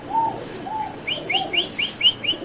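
Pakistani pigeon calling nearby, with a few soft low coo-like notes followed by a rapid series of six short, higher-pitched chirping calls, fairly clear over faint background noise.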